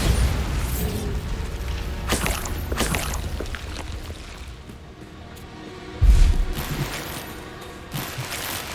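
Bombarda spell explosions in the Hogwarts Legacy video game, several booming blasts amid a dense wash of magical combat noise, with one heavy low thump standing out near the end.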